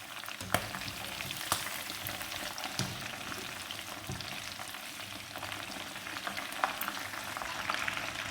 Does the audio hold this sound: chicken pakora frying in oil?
yes